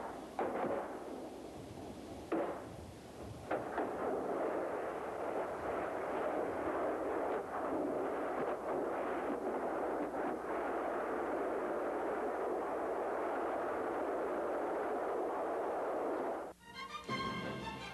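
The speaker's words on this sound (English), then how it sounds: "The result of a hit on a fully armed tank is spectacular." A missile strikes a fully armed tank, setting off a loud, sustained roaring blast and rumble that fills about sixteen seconds before cutting to a brief, different crackle near the end.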